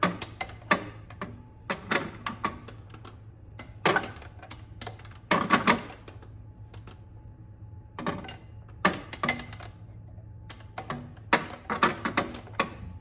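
11/16 wrench working on a wastegate actuator in a BMW 335is engine bay, a series of sharp metallic clicks and ratcheting taps in irregular bursts with quiet gaps between, close and distinct.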